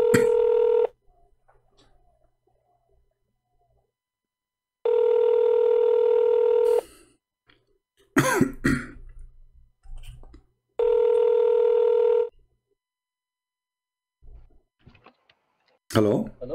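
A telephone call being placed: repeated steady dial-tone-like tone bursts alternate with short dialing clicks and beeps, each burst about two seconds long and separated by quiet gaps, with no voices over it.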